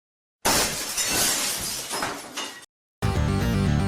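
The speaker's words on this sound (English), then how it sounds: "Glass windows, lamps, furniture, everything made of glass started breaking apart." Glass windows and lamps shatter in a loud, sustained crash lasting about two seconds. After a brief silence, a dark musical sting follows.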